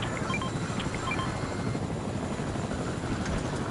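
A helicopter in a video game gives off a steady rotor drone, a continuous heavy low whir that holds constant, close and loud throughout, with no speech over it.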